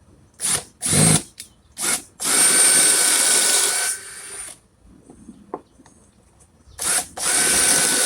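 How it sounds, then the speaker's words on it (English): Power drill boring pocket holes into wood through a jig: several short whirring bursts, then a longer sustained grinding run, a pause with faint handling, and a final burst, loud and close. "Take the drill,"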